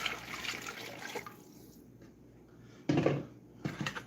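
Water pours into a mixing bowl for bun dough, giving a splashy liquid rush at the start and again in short bursts later, with quieter gaps between.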